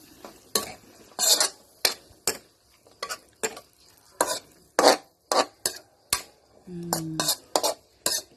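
Long beans stir-fry with red curry paste in a pan. A steady run of brisk metal spatula scrapes and clanks, about a dozen and a half strokes, sounds over a low sizzle, close and loud.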